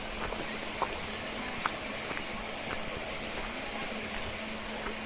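Monsoon rain falls in a village beside a forested green hill in the evening, a steady, even hiss with scattered distinct drops and occasional soft taps.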